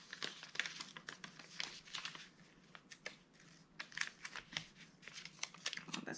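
Paper planner stickers being cut out, a quiet close run of snipping, rustling and crinkling paper sounds in irregular quick bursts with short pauses between.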